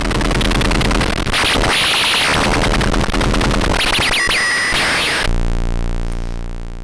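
A loud, harsh, heavily distorted synth drone with noisy buzzing and chattering textures, cutting off near the end into a steady humming tone.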